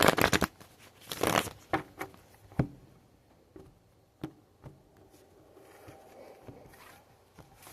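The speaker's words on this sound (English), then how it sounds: "One more shuffle here." Quiet tarot card shuffling: a couple of dense riffling bursts at the start, then scattered soft taps and slides of cards, close and alone.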